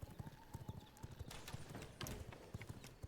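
A horse gallops in V Rising, hooves beating in a quick, steady clip-clop rhythm close by, with faint ambient game sounds underneath and no talking.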